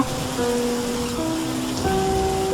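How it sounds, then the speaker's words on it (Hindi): Rain falling steadily outdoors in a Hindi children's story scene, a continuous hiss under faint background music tones, no talk. "बारिश हो रही है"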